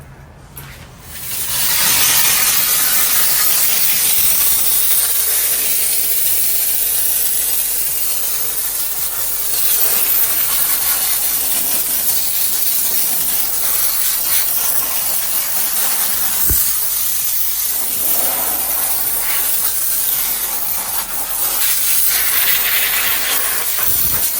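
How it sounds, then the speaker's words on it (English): A steady, loud hiss of a Vapamore MR-750 steam cleaner running continuously at close range during car detailing, with faint rubbing and scrubbing noises underneath. "I'll just kind of show you a little bit of steam clean in here"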